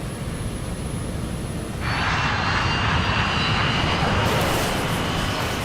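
Jet engines of a KLM airliner thunder as it speeds down the runway, a loud steady roar that swells further after a couple of seconds.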